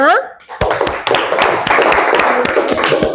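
Schoolchildren clapping in a classroom for a group of classmates, a burst of quick uneven hand claps starting after a brief voice and continuing close and loud to the end.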